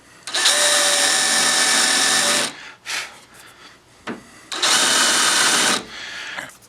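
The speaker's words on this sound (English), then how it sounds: "I've set up my countersink bit, and that countersink bit will countersink these" Power drill with a countersink bit boring into the wooden bottom of a storage cabinet, two loud, close bursts of whining drilling separated by a short pause.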